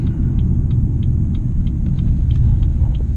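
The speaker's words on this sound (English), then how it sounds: "Gear changes sound so nice with this muffler delete" A BMW 440i with its muffler deleted gives a deep, steady exhaust rumble under acceleration, heard from inside the car, with faint periodic ticking over the low drone.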